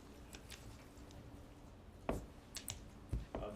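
Someone taps a computer keyboard during a board meeting, sparse, faint clicks at first, then a few sharper, louder keystrokes in a quiet room.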